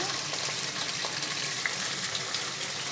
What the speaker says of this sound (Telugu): పచ్చిమిర్చిని వేసుకొని వేయించుకోవాలి కొంచెం జీలకర్ర వేసుకోవాలి